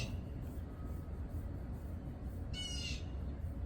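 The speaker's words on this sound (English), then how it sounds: "man, that bird is loud, yo." A single bird call rings out, bright and harsh, about two-thirds of the way through, over steady outdoor background noise.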